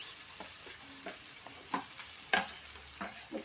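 A fry being stirred in a pan, faint and close, with a soft sizzle broken by a few scraping and tapping clicks of a spoon.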